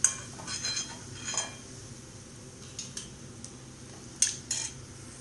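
A metal utensil lifts fried banana flower vada out of hot oil, giving a few light metallic clinks and scrapes over a steady low background hiss of frying. No one speaks.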